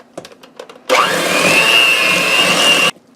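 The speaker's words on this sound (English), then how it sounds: "Now I'm going to blend all of this together until it's nice and smooth" A blender whirs steadily as it mixes cream cheese, butter and vanilla extract for a cream cheese syrup; a few short knocks come first, then the motor starts loud and runs evenly for about two seconds before it stops.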